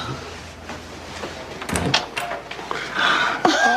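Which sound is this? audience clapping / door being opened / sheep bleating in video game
door being opened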